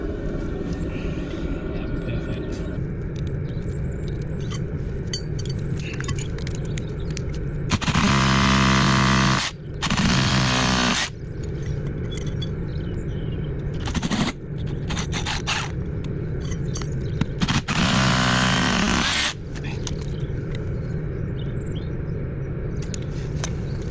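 A back plate is driven into a wall with a power drill or driver in several loud bursts of a second or two each, separated by quieter stretches of steady background noise.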